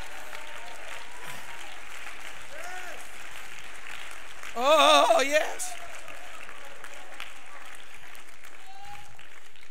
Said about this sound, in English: Come on, clap your hands for a moment.